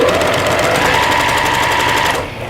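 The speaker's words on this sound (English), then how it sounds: "we're going to just sew directly on the line from corner to corner." A sewing machine stitches straight across quilting fabric from corner to corner, a steady rapid mechanical chatter running close and loud for about two seconds before stopping abruptly.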